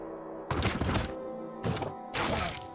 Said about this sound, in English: Just gets shot immediately in the back by his friend